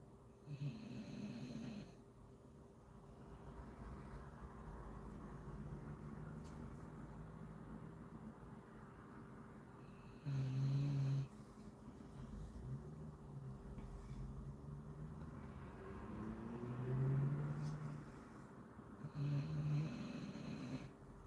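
A sleeping dog snoring near the microphone, with several short, low snorting breaths at irregular intervals over a steady background hum and faint rumble, and no talking.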